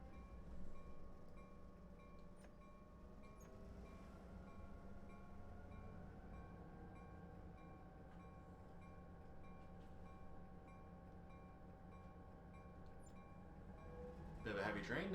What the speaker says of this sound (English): Bit of a heavy train now.